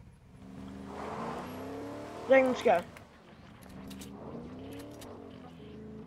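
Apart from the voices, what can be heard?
car engine revving in the video game Fortnite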